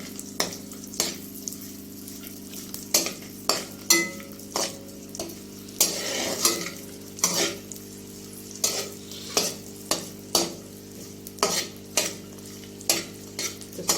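Dried coconut and raisins fry in a pan while a spoon stirs them, a steady sizzle punctuated by regular scraping strokes roughly every second, close and clear with no voices.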